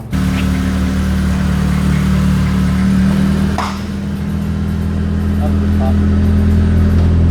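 A 2002 Mitsubishi Lancer OZ Rally with a newly replaced axle drives on a test run, its engine a steady loud drone with a brief dip midway, heard from inside the car throughout.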